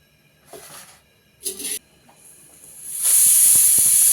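A pressure cooker cooking bottle gourd dal lets out short bursts of hissing steam, then breaks into a loud, sustained whistle that runs to the end.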